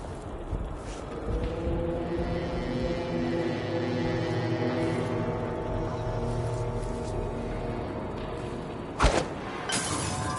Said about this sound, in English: Oh, that sounded like broken glass.